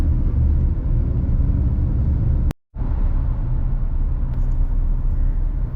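A car creeping westbound through bunched, slow traffic on Interstate 10 toward a downtown skyline, giving a steady loud low road and engine rumble with a brief dropout partway through.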